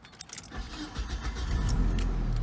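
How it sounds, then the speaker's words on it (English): 1996 Nissan Altima engine starting with the key: keys jangle up close, then the starter cranks and the engine catches into a steady low idle. "Now it starts with the key."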